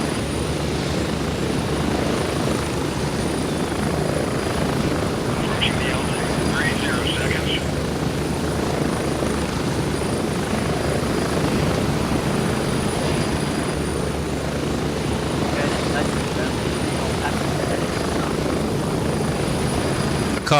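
Helicopter flight in the shooter game Gray Zone Warfare: a steady, even rotor and engine drone runs throughout at moderate level, with a faint high whine above it.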